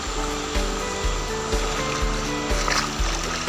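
A swift mountain river current rushes at a stream crossing on a Mount Mekongga climb, a loud, steady roar of water with regular low thumps about twice a second running beneath it.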